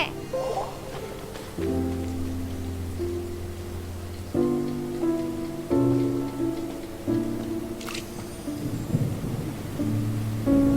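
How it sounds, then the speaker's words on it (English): Rain and rumbling thunder from the Genshin Impact video game roll on steadily beneath sustained in-game music tones, with a brighter crack of thunder near the middle. "It's raining again?"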